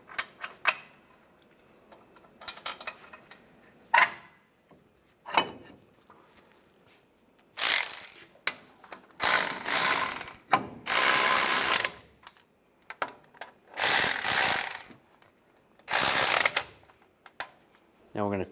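A ratchet clicks while front brake caliper bracket bolts are tightened on a 2005-2010 Dodge Dakota, with scattered small clicks and rattles followed by several loud, close ratcheting bursts of a second or so each.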